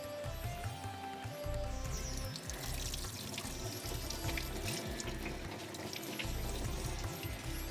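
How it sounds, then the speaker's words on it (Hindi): Soaking water is poured off basmati rice in a kitchen, a steady, continuous splashing gush of water running for several seconds without talk. "तो मैं काम करती हूँ, ये पानी इसका निकाल देती हूँ।"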